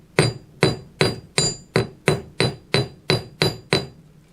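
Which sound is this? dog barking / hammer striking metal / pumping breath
hammer striking metal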